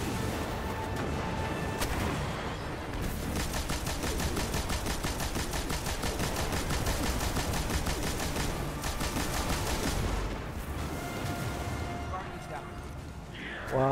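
Rapid sniper and automatic gunfire in Destiny 2, a dense, continuous rattle of shots with booms layered over a game soundtrack, steady and loud throughout.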